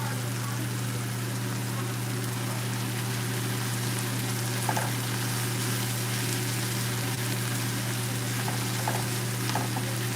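A kitchen exhaust fan runs continuously with a steady whirring roar and low hum while chili cooks, faint clinks and sizzling sounds coming and going beneath it.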